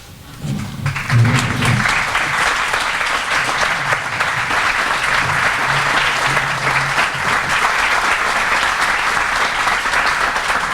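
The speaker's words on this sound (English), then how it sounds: "a round of applause for them" Audience applauding recipients at a Bank of America Neighborhood Builder celebration, a steady, dense, full-room clapping that swells early and holds at even loudness for about ten seconds, with faint voices underneath.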